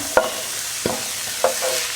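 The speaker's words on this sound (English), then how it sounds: "Hear that sizzle?" Vegetables sizzle in olive oil in a hot pan under a steady frying hiss, with three soft stirring scrapes spaced out across the moment.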